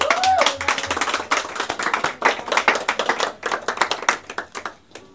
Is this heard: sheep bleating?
no